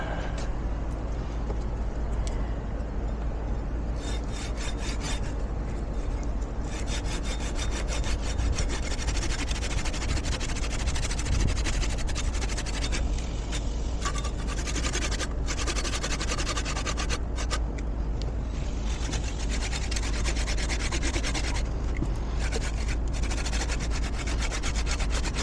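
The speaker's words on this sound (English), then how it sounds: "Forgot my chainsaw because I got to cut some of these branches, but I do have my manual saw" Manual hand saw cutting tree branches outdoors: a steady, continuous rasping and scraping that runs for about twenty-five seconds at moderate volume with a faint low background rumble, and no talking.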